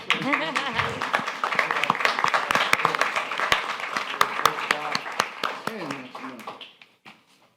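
An audience claps in a city commission meeting chamber: dense, steady applause with sharp individual claps standing out, running for several seconds under a voice talking over it, then thinning and fading near the end.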